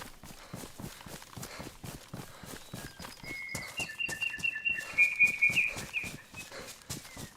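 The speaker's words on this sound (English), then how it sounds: "Cheeseburger bird over there." In the video game DayZ, a bird calls with bright chirping trills that rise mid-way and then fade, heard over a steady rhythm of footsteps crunching along at a walking pace.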